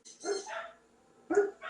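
A dog barks nearby, two bursts of loud, husky barks separated by a short pause, heard indoors through an open door.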